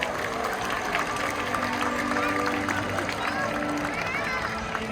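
Audience at a SeaWorld San Diego orca show applauding themselves, a broad crowd clatter of clapping mixed with scattered cheers and chatter, steady and fairly distant throughout.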